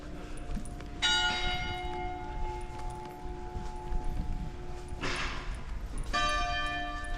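Old church bells ring out in the French town of Moulins, with two clear metallic strikes about five seconds apart and their tones lingering, heard at moderate distance over a soft street background.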